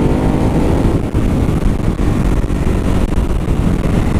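A Ducati Hypermotard 939 motorcycle accelerates hard, its engine roaring loud and close alongside heavy wind rush, a continuous dense drone with no break.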